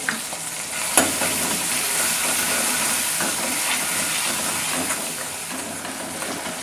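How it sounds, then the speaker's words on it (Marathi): Tomatoes frying with salt in a pan for a spicy sprouted moth bean usal give off a steady, close sizzle. A few soft clinks of stirring break in now and then. "आता यामध्ये मी हे टोमॅटो टाकणार आहे। टोमॅटो पण छान नरम करून घ्यायचा"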